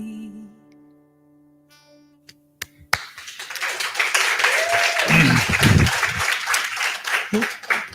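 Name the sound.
round of applause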